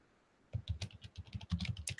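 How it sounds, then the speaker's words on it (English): Rapid typing on a computer keyboard, a dense run of close, loud key clicks starting about halfway through after near silence, with no talking. "Pounding out them beats on your keyboard there, Quiz?"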